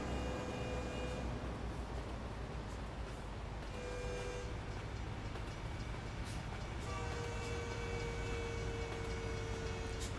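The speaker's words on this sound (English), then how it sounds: "And we got a train coming" A train passes near a car cruising through Missouri, a steady low rumble with faint tonal horn-like hums running under the road noise, no talking.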